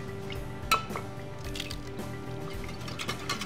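Milk and one egg are poured into a mixing bowl for chicken fried steak batter, giving soft, faint liquid drips and splashes with one sharp clink near the start and no talking.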